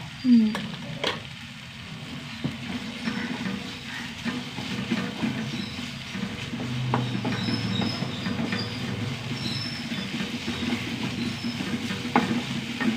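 Spices with turmeric powder sauté in a pan for a gravy, a steady sizzle with scraping stir strokes and occasional clicks, close and continuous throughout.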